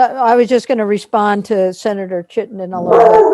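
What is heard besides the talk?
dog barking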